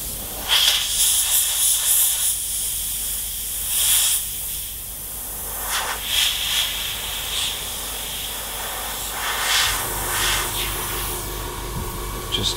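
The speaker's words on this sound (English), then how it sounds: "trying to airbrush on a different angle here so you guys can see what's going on" Airbrush spraying paint onto a Bell helmet muzzle, giving soft hissing bursts of varying length with short pauses between them, close up over a faint background hum.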